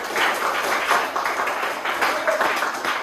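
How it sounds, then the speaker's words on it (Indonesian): Students in a classroom clap once more, a short flurry of close, crisp handclaps with slight pulses in the rhythm, fairly loud and without much talk over it. "Tepuk tangan sekali lagi."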